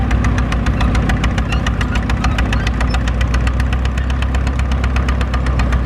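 An old tractor engine, likely from the 1950s or 60s, runs steadily at a ploughing match, a loud, close, rhythmic knocking chug with no voices over it.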